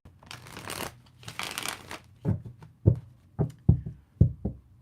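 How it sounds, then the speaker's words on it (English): A deck of tarot cards being shuffled: two long riffling bursts, then a series of sharp taps and knocks as the cards are squared and stacked, close and fairly quiet, with no talking. "Give these cards a shuffle."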